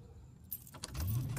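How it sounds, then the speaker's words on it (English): Car being started with keys: a short jingle of keys followed by an engine turning over and catching, low and fairly faint. "You start by turning the car on."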